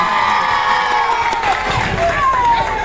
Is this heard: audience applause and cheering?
yes